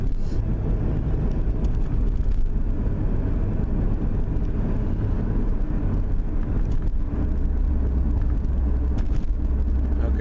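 2003 Ford Taurus with a P0741 torque converter fault on its AX4N transmission, driving and easing off to slow for a right turn, a steady close road roar and engine drone with wind buffeting.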